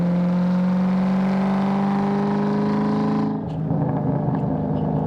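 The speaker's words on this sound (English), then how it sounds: "has an awesome, awesome exhaust note to it" A 2001 Ford SVT Cobra's exhaust hums with a deep, steady drone, then the tone drops and roughens as the engine settles back.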